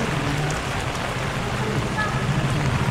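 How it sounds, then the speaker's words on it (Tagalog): Steady rain falling on a street in Osaka, a constant dense hiss close by with people talking faintly underneath. "Sana humila na yung ulan."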